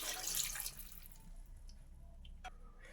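Water is poured into dal in a pressure cooker, a faint splashing pour at the start that fades into quiet drips and small clinks, close and with no speech.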